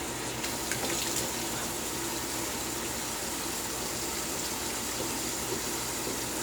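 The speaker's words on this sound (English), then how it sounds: "Let's rinse." Steady stream of running tap water as a safety razor with a Derby Extra double-edge blade is rinsed, a constant soft rushing splash that holds evenly throughout.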